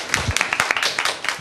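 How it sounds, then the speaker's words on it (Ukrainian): An audience claps at a televised theatre or puppet event, a short burst of quick, irregular applause heard close and fairly loud. "Ваши аплодисменты!"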